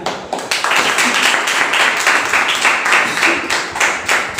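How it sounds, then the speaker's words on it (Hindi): A church congregation at a Sunday evening service claps together in thanks to God, a dense, loud, steady round of hand claps that runs throughout with little variation. "क्यों ना हम परमेश्वर के लिए धन्यवाद दें तालियों के साथ"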